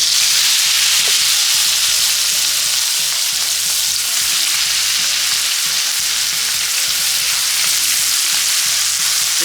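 Meat fries in butter in a pan, a loud continuous sizzle with a dense crackling hiss and faint rhythmic low clatter underneath, close up and unbroken.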